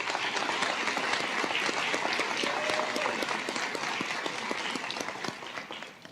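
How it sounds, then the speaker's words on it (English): An audience at a National Technical Honor Society induction gives a round of applause for standing CTE teachers, close, crisp clapping from many hands sustained for several seconds before tapering off. "Please give them a round of applause."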